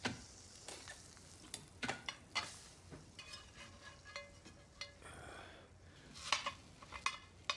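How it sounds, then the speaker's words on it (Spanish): A frittata fries in a hot pan in a home kitchen, a steady soft sizzle broken by scattered clicks and clinks of utensils against the pan, quiet and close, with no voices. "La clave para la fritata es lo caliente que esté la sartén."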